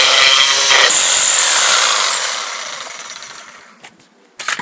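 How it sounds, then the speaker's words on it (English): A reciprocating saw cuts through material in a tool demonstration, a loud, dense buzzing rasp for about two seconds that gradually fades out, followed by a few short clicks and a brief renewed burst at the end. "We're going to do another demonstration of the reciprocating saw"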